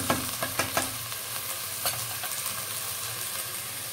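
Salted lettuce soup base frying and being stirred in a pot, with a few sharp scraping knocks of the spoon early on over a steady, close sizzle.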